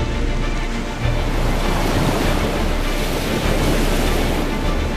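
Loud, continuous ocean surf crashes against a shallow coastline, a dense roar of breaking waves with steady wind noise and no voices, filling the whole stretch.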